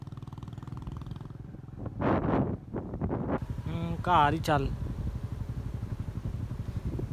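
Motorcycle engine hums steadily while riding through a village, with wind buffeting the microphone and someone talking over it.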